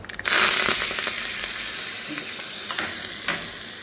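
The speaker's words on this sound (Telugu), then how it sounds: "పోపు అయితే వేగుతుంది చూడండి పప్పులు అయితే చక్కగా వేగాయి" Steady crackling sizzle of tempering spices and lentils frying in hot oil, close and continuous, with a few sharper pops and spatters; no talking.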